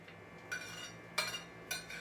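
A knife slicing through a cooked Spanish potato tortilla on a plate, cutting it into quarters: three quick scraping clinks of metal on dish spaced about half a second apart, fairly quiet and close with no voices.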